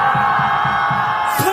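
A massed crowd at an anti-impeachment rally outside Dongdaegu Station lets out a loud, continuous shout and cheer, with pulsing bursts of voices.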